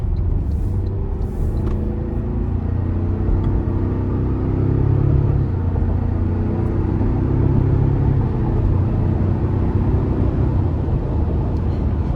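A 2024 Toyota Tacoma SR5 pickup accelerates up to speed in power mode, heard from inside the cab as a steady, loud low engine and road rumble with no talking.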